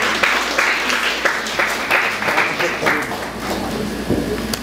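A church congregation claps in praise to the Lord: a steady, dense wash of many hands clapping at once, fairly loud and sustained throughout, with voices mixed faintly underneath.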